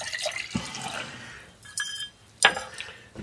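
Water being poured for a rye sourdough starter made with rye flour in a pint jar: a few faint, brief splashes and clinks spread over a soft background hiss, with no talking.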